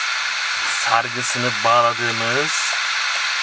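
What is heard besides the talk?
tape player audio through repaired speaker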